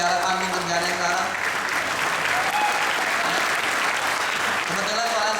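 An indoor audience claps at an evening event, dense sustained applause filling the whole stretch at an even level, with a voice speaking faintly over it.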